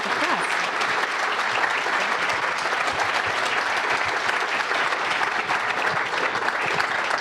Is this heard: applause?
yes